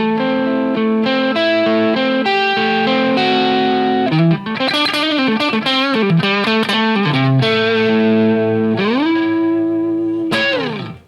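Electric guitar on its neck pickup, played continuously with an overdriven tone: a steady run of sustained notes and quick melodic phrases, loud and up close, ending on a held note.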